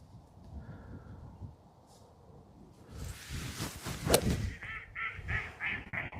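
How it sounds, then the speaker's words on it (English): Geese honking on a golf course, a raucous cluster of calls rising in the middle and then repeated honks toward the end, moderately distant over outdoor ambience. "What are those geese yelling about?"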